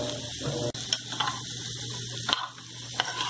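A spoon scrapes and stirs through rice in a metal pot over heat, with a soft steady sizzle underneath and a few sharper clinks against the metal.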